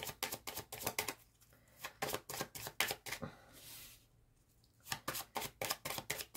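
Tarot cards are dealt one after another onto a table, six in all, making crisp rapid flicks and snaps in quick clusters with short pauses between, close and faint, with no voices.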